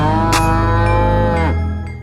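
A single dairy cow in a dairy-farming district of Pasuruan, East Java, lets out one loud, close, drawn-out moo that falls in pitch and fades at the end.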